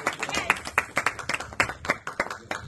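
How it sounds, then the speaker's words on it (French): Audience clapping at a ceremony where a sabre is presented, a dense run of close hand claps with uneven peaks continuing throughout. "Applaudissements."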